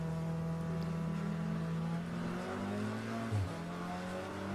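A race car at an endurance championship accelerates out of the pit lane, its engine droning as a steady tone that climbs in pitch, then shifts gear and drops before rising again, moderately close and without voices.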